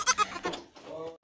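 A goat in a children's comic skit gives a few quick, wavering bleats close by, then a softer trailing call and a brief gasp-like sound after a short pause.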